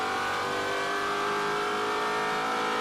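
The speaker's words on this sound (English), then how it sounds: "Car sounds amazing with Matos." A TA2 race car engine at VIR during a race holds a steady, loud, high-pitched drone, sustained without letting off for the full few seconds, with no talk over it.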